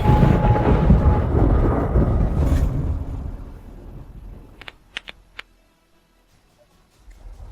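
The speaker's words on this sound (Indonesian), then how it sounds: "Anjir, ada petir." Thunder rolls in a heavy, low broadband rumble for several seconds during an outdoor film shoot as a storm approaches, then fades, followed by a few sharp, close clicks and near quiet.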